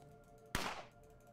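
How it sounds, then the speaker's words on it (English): Two sharp sniper shots in the zombie shooter Fort Zombie, the first followed by a long decaying echo, the second cutting in at the very end over a quiet background hum. "Shoot your friend. Shoot him."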